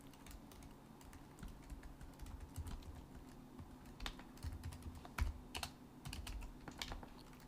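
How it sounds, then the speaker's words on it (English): Typing on a computer keyboard gives quick, irregular clicks and clacks of keys with occasional heavier strokes, close but quiet over a low room hum, with no voices. "I'm getting tired of typing apply -1,"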